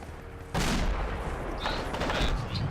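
Arma 2 combat: a sudden loud burst of gunfire and explosions erupts and continues in rapid, dense volleys.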